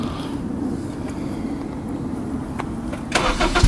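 A Honda Civic Si engine runs with a steady, close, low rumble, then a louder raspy burst breaks in during the final half second.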